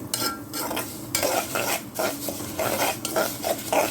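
Vermicelli frying in a pot for Egyptian koshari, being stirred with a utensil: a continuous oily sizzle under repeated scraping and clinking strokes against the pot, close and fairly loud, no talking.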